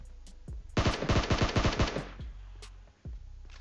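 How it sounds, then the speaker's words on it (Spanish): Rapid burst of machine gun fire in the video game PUBG on the snowy Vikendi map, about a dozen sharp shots over roughly a second, loud and close, followed by a few scattered distant shots. "Sí, los disparos."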